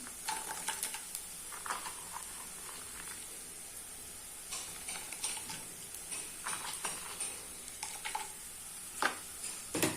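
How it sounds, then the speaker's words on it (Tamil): Turkey berries fry in hot oil with softened onions, a steady close sizzle broken by repeated clinks and scrapes of stirring throughout. "இதை நல்லா வறுங்க விடுங்க"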